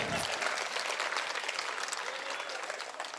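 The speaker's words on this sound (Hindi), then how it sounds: "ताली बजा के बताइए।" Audience applause at a patriotic Hindi poetry recital, a burst of many hands clapping together that stays strong and fairly even before slowly easing off.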